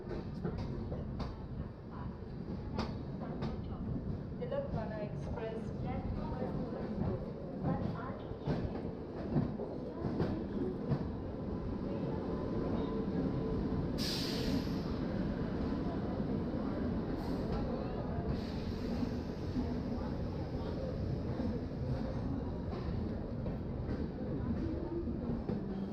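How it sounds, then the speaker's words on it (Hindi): The Telangana Express pulls into platform 2 at Jhansi Junction, running late, with a continuous rumble of wheels and rattling carriages, rhythmic clacking over the rails and a brief sharp hiss partway through. "और हम अभी अराइवल ले रहे हैं वीरांगना Lakshmibai railway station Jhansi junction पे।"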